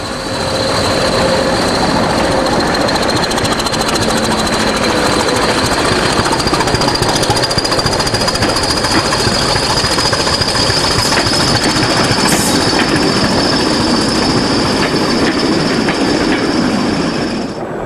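A British Rail Class 31 diesel locomotive labours hard hauling seven loaded ballast wagons, its engine roaring loudly and steadily throughout with rattling wagon and rail clatter layered on top, no voices.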